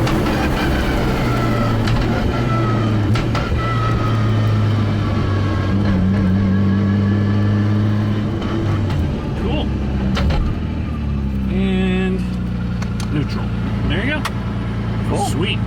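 A Nissan R33 with a sequential gearbox pulls away and accelerates, its engine droning loud and steady with a rising pitch, while someone talks over it throughout.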